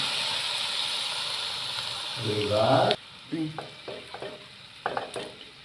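Grated carrots sizzle in a hot pan for gajar halwa, then the frying hiss drops sharply as milk is poured in, followed by intermittent stirring scrapes and clinks.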